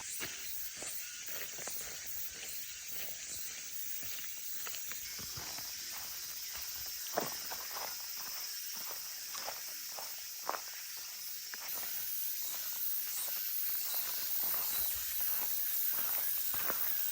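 Footsteps crunch steadily along a cool, deep forest trail hidden in the middle of Seoul, each step a soft scuff against a constant background hiss of wind and insects.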